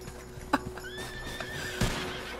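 A horse in a video game whinnies after tumbling off a cliff edge, with a few scattered clip-clops and thuds around a rising, drawn-out neigh, fairly close and clear.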